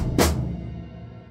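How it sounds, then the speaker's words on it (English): Drum kit crash cymbal hit together with the bass drum in a drum part, one loud bright wash fading out over about a second, close and alone. "we do a crash with the bass drum"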